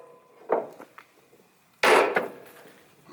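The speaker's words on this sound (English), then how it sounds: "so let's see if I can pound it forward now" A wooden trailer decking board is pounded forward into place, two sharp knocks followed after a pause by a loud, heavier double impact, close and solid with brief ringing.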